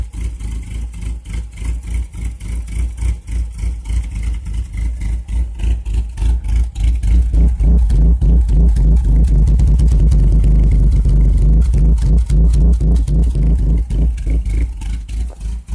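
A Chevrolet Cavalier engine misfiring and running rough, a loud, uneven, pulsing idle that rises into a choppy rev before easing back, the rhythmic chugging close and without talk.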